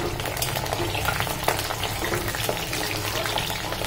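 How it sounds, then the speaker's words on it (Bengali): Onions with a bay leaf frying in white oil in a hot wok, a steady busy sizzle with crackling pops running throughout at close range. "আমি এখানে একটা তেজপাতা ফোড়ন দিয়ে পেঁয়াজগুলো দিয়ে দিয়েছি"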